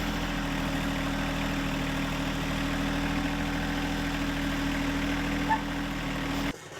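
John Deere 1025R compact tractor engine idling nearby, a steady low diesel rumble with an even drone that holds constant for several seconds before dropping off at the end.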